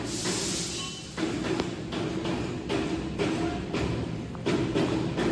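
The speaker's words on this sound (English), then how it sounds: "It blasts the plate and the H-beam, also the roller conveyor blast type." Roller conveyor shot blasting machine running in a factory, blasting steel plate and H-beam, gives a steady loud industrial roar with repeated dull thuds and hissing throughout.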